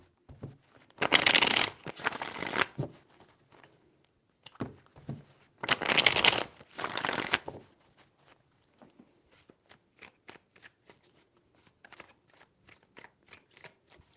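Tarot cards being shuffled in two strong riffling bursts, each a couple of seconds long, followed by quieter taps and light handling of the deck.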